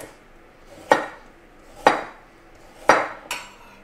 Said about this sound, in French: On en profite pour peler les carottes. Et on coupe en rondelles.